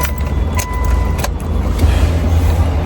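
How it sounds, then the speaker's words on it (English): A key turns in the ignition of a built Mitsubishi Evo 8, bringing a few faint clicks and chimes over a steady low background hum, with no talking. "And let me turn this key on."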